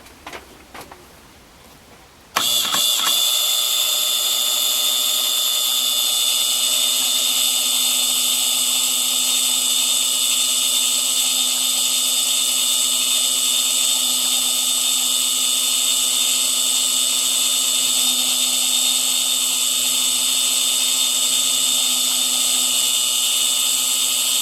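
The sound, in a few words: high-speed drill in milling machine drilling brass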